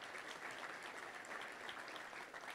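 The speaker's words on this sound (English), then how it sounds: "Let's give all those guys from the U of A, all our folks from the U of A, a big round of applause." Audience applause at a Little Rock Touchdown Club gathering for University of Arkansas guests, a steady wash of many hands clapping, heard from a distance and fairly faint throughout.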